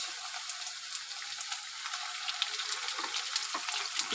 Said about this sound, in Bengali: আলুটা বেশ ভালো করে ভাজা হয়ে গেছে। এখন আমি আলুটা তুলবো না